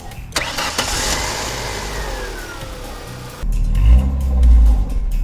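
A Ford 1.9 liter 90 horsepower car engine turns over under the open hood, cranking and catching, then settles into a loud, steady idle heard up close.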